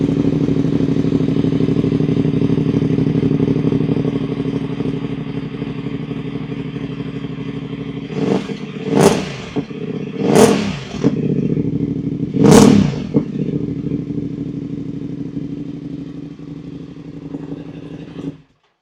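Voge DS900X motorcycle idling with an old baffle held in the exhaust, a steady low rumble, then three sharp throttle blips close up before settling back to idle and cutting off.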